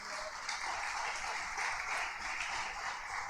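A church congregation claps together in praise at a worship service, a steady wash of applause filling the room evenly from start to finish without a break.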